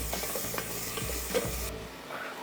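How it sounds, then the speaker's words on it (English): Ginger garlic paste, two tablespoons, sizzles in a pan for mutton curry while a spoon stirs it, giving a soft steady crackle with a few scraping strokes. The sound is close and moderately quiet, and no one speaks. "To this I'm going to be adding some ginger garlic paste, 2 tablespoons each. Beautiful. Give this a little stir."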